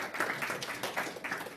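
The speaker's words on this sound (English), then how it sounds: "Can you please give a round of applause for them" A conference audience gives a short, moderately faint round of clapping for the event sponsors, with individual claps audible in an uneven rhythm.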